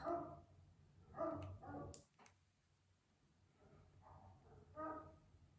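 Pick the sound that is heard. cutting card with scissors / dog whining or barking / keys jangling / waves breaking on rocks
dog whining or barking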